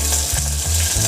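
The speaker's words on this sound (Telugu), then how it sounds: "కరివేపాకు, నానబెట్టి ఉంచుకున్న కాజు పప్పు" Curry leaves and soaked cashews frying in a little oil, a loud, close, continuous sizzle with a low rhythmic rumble underneath.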